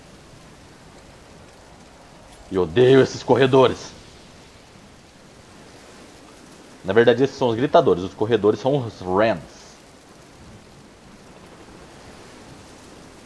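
Steady rain in Dead Island: Riptide, a constant broad hiss under the whole stretch, with someone speaking over it in two short bursts.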